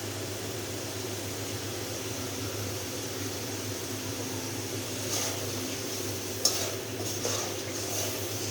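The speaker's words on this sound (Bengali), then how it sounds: "আর একটু নাড়া দিয়ে দিলাম" Spice paste is stirred in a cooking pot for a fish and potato curry, a steady soft scraping under a constant fan-like hiss, with a couple of brief metallic clinks near the end.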